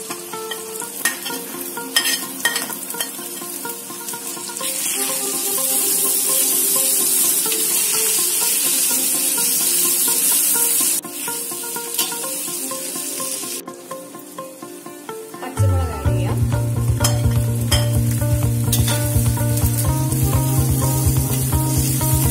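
Ginger tossed into hot oil for a Kerala-style homemade prawn pickle, a loud steady sizzle with scraping stirs, and the frying surges sharply louder partway through as the ginger hits the pan.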